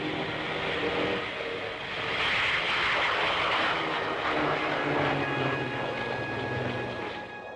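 Messerschmitt Me-262 jet aircraft flying at an air show display, a sustained roaring whoosh that swells and fades as it passes, heard without voices.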